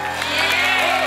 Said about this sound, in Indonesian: Kalau setuju boleh berikan tepuk tangan sekali lagi untuk Ikram.